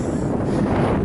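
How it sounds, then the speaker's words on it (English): Gusty wind buffets the microphone on an outdoor trail, a steady low rumbling roar that fills the short stretch without pause and with no talking. "Maybe that's why it's so windy."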